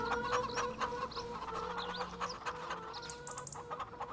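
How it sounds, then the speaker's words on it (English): A flock of chickens clucking and murmuring nearby in steady overlapping calls, with a few higher squawks, over a faint constant hum and no talking. "Look at that, we can see right through to all the chickens."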